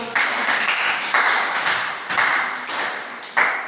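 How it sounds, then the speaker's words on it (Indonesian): Short bursts of hand clapping from a classroom audience after a group presentation, coming in several distinct waves that start sharply and fade, fairly close and loud. "Oke, tepuk tangan dulu"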